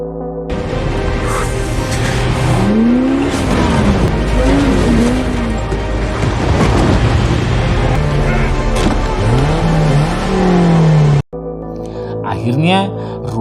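Car engine revving and driving in a film scene, with a struggle in the car before it plunges into an icy lake; loud sweeping engine pitch rises and falls with tyre noise and crashes, cut off abruptly near the end.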